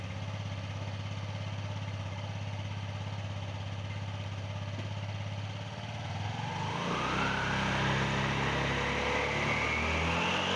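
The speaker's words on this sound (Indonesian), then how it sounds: "kita akan nyalakan mesinnya dan kita akan gas-gas" Scooter engine with a freshly replaced CVT roller housing and drive face idles steadily, then revs up with a rising whine as the throttle opens, close and moderately loud with no talking.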